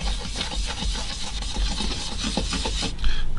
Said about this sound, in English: So we'll rub the brown